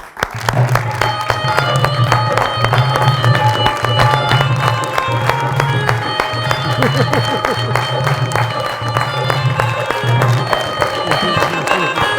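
Studio audience applause welcoming actors Samina Ahmad and Manzar Sehbai onto a Pakistani TV talk show set, a loud, steady wash of clapping over upbeat music throughout.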